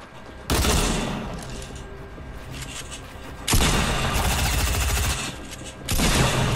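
Dense automatic gunfire rattles through an Apex Legends battle on PS4 in long, loud, sustained bursts separated by short gaps, with no talk.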